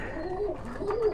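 A Kuwaiti teddy pigeon coos up close, giving two soft, throaty rolling calls over a quiet background.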